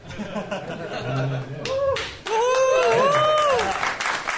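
Audience at a drum clinic clapping and laughing, scattered claps and chuckles rising into fuller applause, with voices talking and laughing over it.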